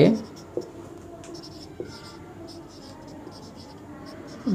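Chalk or marker scratches across a board during a physics lesson on vectors, soft intermittent strokes with a few sharper taps while someone talks at moments.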